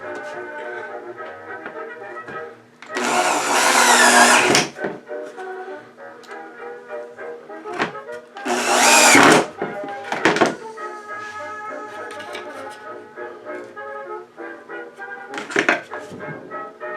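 Short screws are driven into a wooden slat of a VARNAC footrest, with loud bursts of drilling alongside clunks and taps of wood and tools, up close, over a steady background hum.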